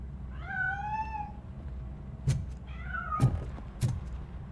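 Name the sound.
cat meowing in video game RoboCop: Rogue City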